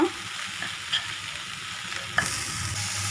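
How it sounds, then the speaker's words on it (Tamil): Sprouted green gram stir-fried in a pan, a steady close sizzle with occasional scrapes and clinks of the spatula and no talk. "நல்லா ஃப்ரை பண்ணிக்கிட்டே இருங்க."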